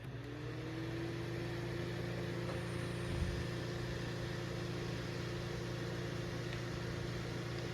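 A Duracraft 2-speed table fan running on its high setting, a steady, faint whirring hum with constant airflow noise, close and even throughout.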